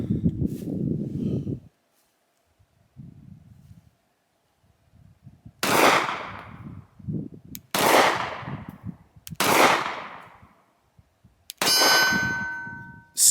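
Sig Sauer P365 pistol shots ringing off steel targets: four sharp, loud cracks spaced a couple of seconds apart, each followed by a ringing metallic clang, with quieter handling noise between.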